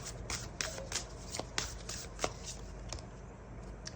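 Tarot cards being shuffled close by, a soft continuous riffling with repeated crisp flicks and taps at an uneven rhythm over a low background hum; no one speaks.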